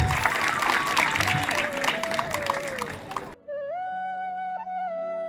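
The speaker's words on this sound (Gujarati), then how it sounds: "જોરદાર તાળીઓના ગગડાટથી આપણે સંતોને વધાવીશું" Audience applause welcoming saints at a temple gathering in Chokhad village, a dense burst of clapping lasting about three seconds, then cutting abruptly to sustained tonal music or chanting.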